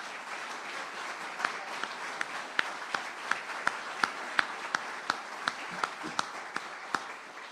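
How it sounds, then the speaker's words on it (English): A standing crowd applauds at a bill-signing event in Florida, a dense steady wash of clapping with sharp individual claps popping out at a quick, irregular pace, sustained throughout without talk. "Let's give them a round of applause."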